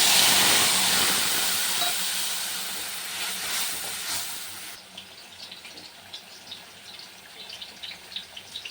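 A paste of coriander, radhuni and green chili hits hot oil in a pan where boal fish was fried, giving a loud, steady hissing sizzle that drops off suddenly into a quieter, crackling simmer.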